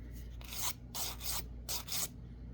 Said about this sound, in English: smoothed on down with your glittery file